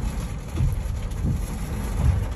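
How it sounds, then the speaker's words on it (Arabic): Heavy rain pours steadily during a storm west of Al Jumum, a dense continuous wash of falling water with low rumbling underneath and no voices. "شوفوا غزارة المطر كيف."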